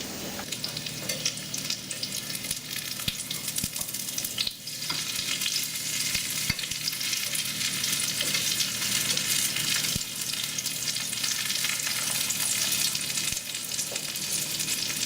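Breaded turkey schnitzel fries in oil with a loud, steady crackling sizzle that lasts throughout, broken by a few sharp clicks and taps from handling in the pan, with no speech.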